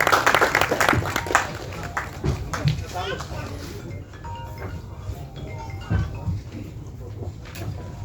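A crowd at the Karungkulaththan film audio launch claps to welcome distributor Jenish onto the stage, a burst of applause that is strongest at the start and then thins out and fades, with voices heard around it.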